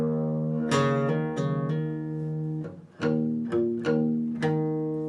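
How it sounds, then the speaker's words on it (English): Guitar playing the first part of the verse at slow speed, a series of plucked notes and chord strikes in an unhurried rhythm, each ringing out clearly with no talk. "Part 1 played all together in slow."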